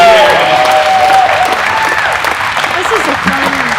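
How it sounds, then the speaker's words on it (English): Loud audience applause for the competitors at the NRL National Competition in Colorado Springs, thick clapping with a few cheers and whistles mixed in, and voices talking underneath as it continues. "Let's give a big round of applause to all of our competitors."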